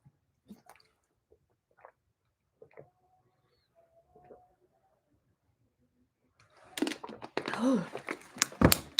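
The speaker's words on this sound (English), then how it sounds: "Let me take a sip of water." Water being sipped close up, a few quiet wet mouth clicks and small sounds early, then a louder burst of slurping and swallowing near the end, alone without talk.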